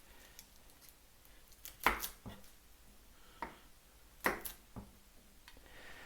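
A knife slices the ends off garlic cloves on a cutting board, giving a few sharp, quiet cuts spaced a couple of seconds apart, close by in a hushed kitchen.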